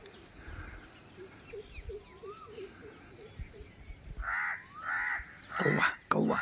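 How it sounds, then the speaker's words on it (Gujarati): Crows cawing on a hillside morning outdoors, several loud harsh caws bunched toward the end over faint background birdsong and a steady ambient hiss. "कौवा कौवा कौवा बहुत बोल रहा है"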